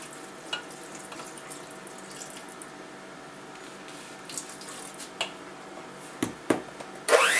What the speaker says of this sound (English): Now I'm going to add some of our 1 cup of milk.